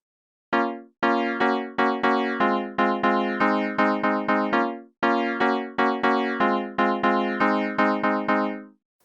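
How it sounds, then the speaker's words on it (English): A synthesized piano preset on the Arturia SQ80 V plays a steady sequence of short, decaying notes and chords in a regular rhythm, alone and fairly close. "And the piano in the SQ80 V sounds like this."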